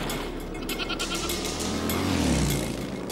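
Goats being hurried along by colonists fleeing, bleating amid a dense, loud wash of commotion and noise that continues throughout.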